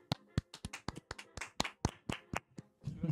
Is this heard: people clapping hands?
yes